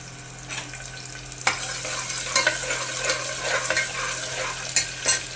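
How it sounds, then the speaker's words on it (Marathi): A small onion fries in hot oil with bay leaves for mutton gravy, a continuous close sizzle broken by repeated scraping and clinking of a spoon stirring against the pan. "हा कांदा आता मस्त तळून घेऊया"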